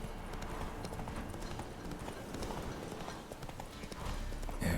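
A horse trots in The Witcher 3 video game, its hooves clip-clopping in a quick, steady rhythm close by, with faint ambient background and no talking.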